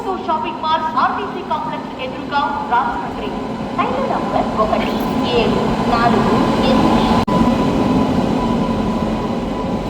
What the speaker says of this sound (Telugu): ఫైనల్గా మన ట్రైన్ అయితే వచ్చేసిందండి